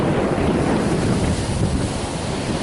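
Big sea waves surge and crash in a storm off the coast of Cyprus, a loud, continuous roar of rough surf mixed with heavy wind buffeting the microphone, with no talking.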